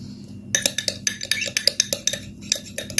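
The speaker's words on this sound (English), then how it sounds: "Mix well the gel like so." A spoon clinks and scrapes against a bowl while stirring aloe vera gel, a steady run of sharp, bright taps in quick irregular rhythm, close and clear with no talk.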